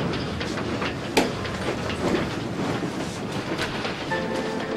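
A train carrying Norway's gold reserves rumbles along in 1940 with a steady rolling roar and rhythmic clickety-clack from the rails, loud and close, with a few sharp knocks and no speech.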